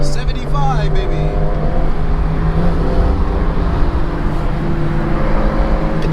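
An Acura RSX engine holds a loud, steady drone heard from inside the car, with talk over it.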